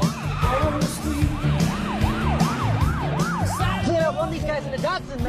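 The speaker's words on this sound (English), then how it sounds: "Police car chasing us. We're in a fucking car chase." A wailing police siren rises and falls repeatedly during a movie car chase involving a Datsun, loud over engine roar and tire noise, with voices talking over it.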